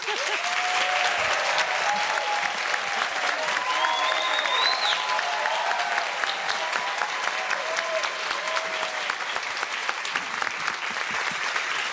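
An audience applauds athletes standing to receive it, sustained dense clapping throughout with a few cheers and whistles rising over it, fairly close and even.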